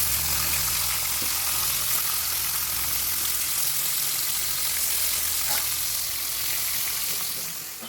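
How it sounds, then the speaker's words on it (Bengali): Fish pieces rubbed with salt and turmeric fry in hot oil with a steady, even sizzle and crackle, close and unbroken, with only a faint clink or two and no voices. "তো এখন ভালো করে ভেজে নেব।"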